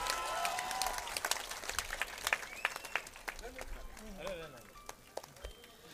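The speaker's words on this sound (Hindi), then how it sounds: "जोरदार तालियां बजाइए।" Crowd applause at a political rally in Aurangabad, scattered claps and crowd noise mixed with a voice over a loudspeaker, fairly faint and continuous.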